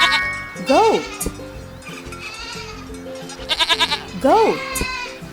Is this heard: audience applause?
no